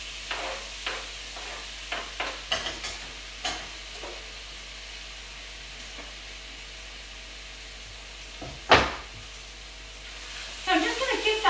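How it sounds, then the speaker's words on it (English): Coconut oil sizzling in a pan while making Thai green curry, a soft steady hiss broken by scattered pops and a few louder crackles. "So you can hear that sizzling."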